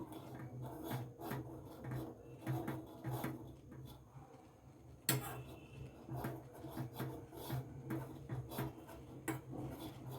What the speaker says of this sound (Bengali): যতক্ষণ না বাটারটা এর মধ্যে গলে যাচ্ছে ততক্ষণ আমি এটাকে নাড়তে থাকবো।